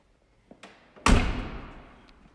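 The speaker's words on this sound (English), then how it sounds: "that door shuts" A single heavy door of a 1951 Lincoln Sport Coupe slams shut with a deep, solid thud that rings out briefly, following a couple of faint clicks.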